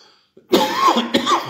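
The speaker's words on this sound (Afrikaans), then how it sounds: "vir een of ander rede kan ek nie hierdie hoes afgooi nie" A single harsh cough bursts out close to the microphone after near silence, followed by a rougher second cough with a throaty tail.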